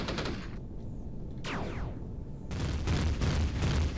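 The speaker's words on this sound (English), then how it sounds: "We can switch to the Gatling guns." Gatling guns in Empyrion unleash rapid, dense bursts of fire. The rattling stops briefly, with a short sweeping whoosh in the gap, then resumes louder and heavier.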